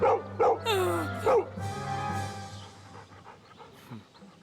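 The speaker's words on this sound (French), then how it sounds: "arrête d'aboyer" A dog barks and yips in a few sharp bursts near the start, then quieter panting and whimpering continue under a steady low hum.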